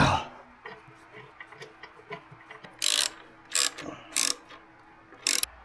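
Ratchet and socket working the valve cover bolts on a Jeep Cherokee engine, giving soft clicking ticks followed by several short, louder bursts of rapid ratcheting, close and with no talking.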